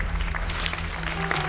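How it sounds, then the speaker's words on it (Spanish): A television studio audience applauds after a contestant is eliminated, a dense steady clapping wash with crowd noise and music underneath, fairly loud throughout. "La despedimos con un fuerte aplauso"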